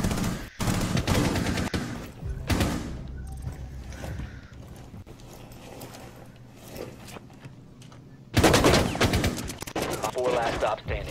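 Gunfire in the Rainbow Six Siege video game: loud bursts of rapid automatic shots, with a brief burst early, another a couple of seconds later, and a sustained heavy volley near the end. Voices talk in between.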